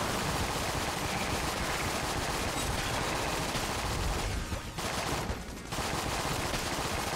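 Continuous rapid gunfire from guns in the video game Enter The Gungeon, a dense, loud stream of shots with only two brief gaps.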